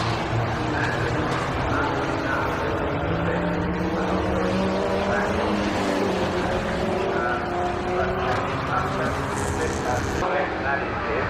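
Early Ford saloon race cars lapping a circuit, one engine held on the rev limiter under strain, giving a continuous loud engine drone with overlapping cars passing.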